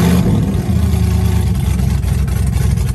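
An LS-swapped Chevrolet S10 truck engine runs loud and close for the full stretch, a steady heavy rumble that rises slightly as it is revved.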